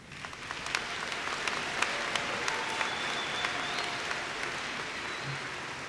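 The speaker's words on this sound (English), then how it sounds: "Why don't we give them applause?" An audience claps steadily for graduates at a Dalton State College spring commencement ceremony, a broad, even wash of applause from a large indoor crowd, distant and moderately loud throughout.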